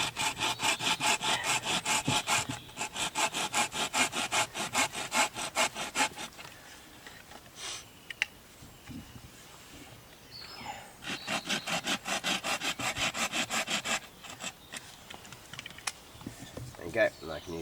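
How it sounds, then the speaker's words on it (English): A Laplander folding saw cuts through wood outdoors in a bushcraft setting, with rapid rhythmic rasping strokes in two long close bursts and a quieter pause with scattered handling noises between them. "Okay, so Laplander, just going to cut this bottom bit off."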